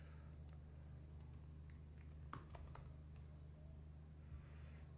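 Quiet keyboard typing, a few scattered key clicks and a short quick burst in the middle over a low electrical hum.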